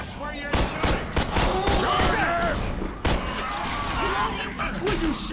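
Rapid gunshots crack in Left 4 Dead 2, a volley of sharp bursts in the first half and another at about three seconds, close and loud, mixed with excited shouting voices.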